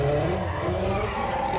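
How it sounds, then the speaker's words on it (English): A Hyundai IONIQ 5 N electric car's simulated petrol engine note hums and growls steadily, a continuous low motor tone rising slightly in pitch over a short span. "Ignition simulates our existing petrol engines."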